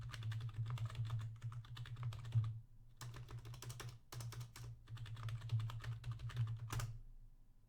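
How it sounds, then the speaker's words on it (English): Fast tapping on a computer keyboard while logging in, in continuous bursts broken by two brief pauses, close and fairly quiet over a low hum. "I'm gonna click and I'll start typing in."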